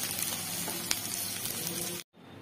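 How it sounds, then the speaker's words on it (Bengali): Chicken pieces frying in a pan, a steady close sizzle with small pops, alone without talk, cutting off abruptly near the end. "সেম প্রসেসে আমরা বাদবাকি মাংসগুলো ভেজে নেব"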